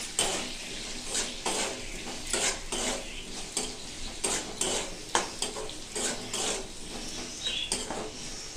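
Ground cumin and turmeric are stirred in a pan with a utensil, giving rhythmic close scraping strokes over a faint frying sizzle.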